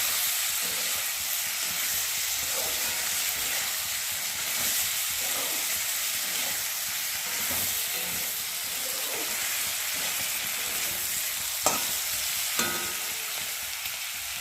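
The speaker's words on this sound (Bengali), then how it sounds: "আর দেবে স্বাদ অনুযায়ী নুন, দিয়ে একটু ভালো করে ভেজে নেবে।" Turmeric powder and salt fry in hot oil in a pan for prawn malai curry, giving a steady, even sizzle with a couple of faint stirring clinks and no voices.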